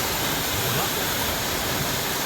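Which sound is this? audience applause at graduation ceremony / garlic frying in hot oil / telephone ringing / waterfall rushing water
waterfall rushing water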